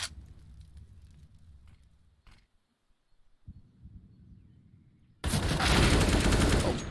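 Counter-Strike: Global Offensive match play starts with quiet in-game ambience and faint clicks, then a loud, sustained burst of AK rifle gunfire fills the final seconds.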